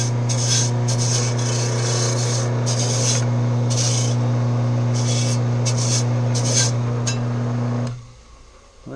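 A lawn tractor mower blade sharpened by hand, with rhythmic rasping strokes scraping over steadily droning motor hum, close and loud until the grinding stops near the end.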